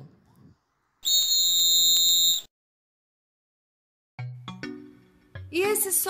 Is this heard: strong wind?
no